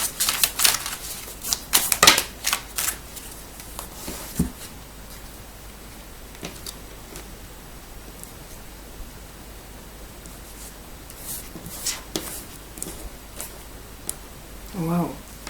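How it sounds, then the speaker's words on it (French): Oracle cards drawn and shuffled by hand, giving a string of crisp papery snaps and rustles, clustered loud at the start and again near the end, with quieter handling in between. "je tire des cartes supplémentaires"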